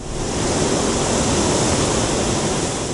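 Mediterranean Sea waves wash onto the shore at Carthage, a loud, continuous broadband roar of surf with no distinct breaks, mixed with some wind rumble.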